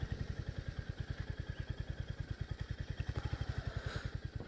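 A Royal Enfield Hunter 350 motorcycle running with a fast, even, thumping engine pulse that stays steady and fairly close throughout, with no voices.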